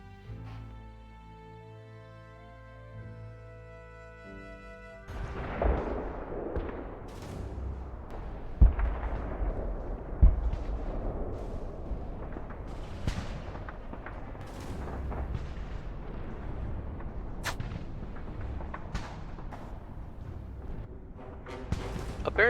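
Tank battle in the strategy game Arms Trade Tycoon: Tanks, with repeated cannon shots and explosions cracking out at irregular intervals over a rumbling background, after a quiet musical opening, with no talking.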